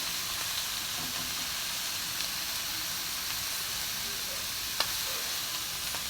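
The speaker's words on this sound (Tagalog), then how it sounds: "ihalo na po natin yung gulay" Vegetables sizzle steadily in a hot pan while being stirred, a continuous close frying hiss with faint scrapes and one sharp utensil tap near the end, with no talking.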